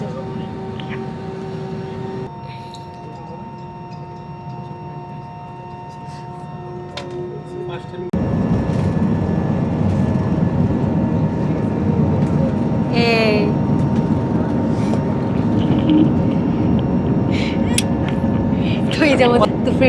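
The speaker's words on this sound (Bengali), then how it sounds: "আমাদের বিমানটা কিন্তু অনেক উঁচুতে উঠে গেছে হঠাৎ করে" Steady, loud engine roar inside an airliner cabin on a flight from Dhaka to Colombo, jumping noticeably louder partway through as the plane climbs after takeoff, with brief faint chirps near the end.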